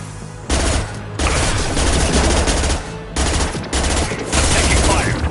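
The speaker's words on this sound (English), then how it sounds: "Taking fire." Dense automatic gunfire from a firefight in the video game Mass Effect 2, loud and continuous with brief pauses between long bursts, heavy and close throughout.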